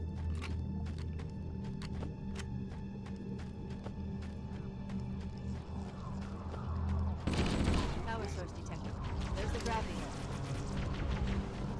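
Gunfire in Halo: Combat Evolved, with rapid repeated shots from the game and then a louder blast, under a player's talk.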